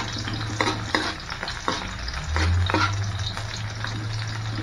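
Garlic and onion fry in a pan with a steady sizzle and crackle, while intermittent stirring scrapes through it. The sound is close and continuous, with no talking.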